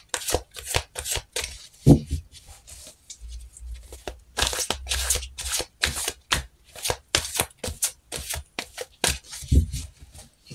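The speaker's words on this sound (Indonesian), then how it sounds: "Kita langsung shuffle kartunya" Tarot cards being shuffled by hand, a quick run of crisp riffling and slapping bursts in an irregular rhythm, close and clear with no talk.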